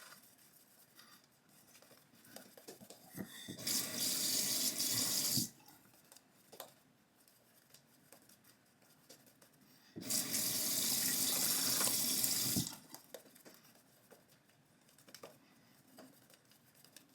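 Water running from a bathroom tap while rinsing after a shave, heard in two steady bursts of a few seconds each, with quiet handling sounds in between.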